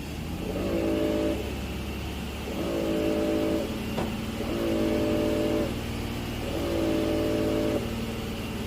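A Renault Samsung SM7 car engine revs up four times in even bursts. Each burst rises and falls over a low steady idle hum, fairly close and with no voices.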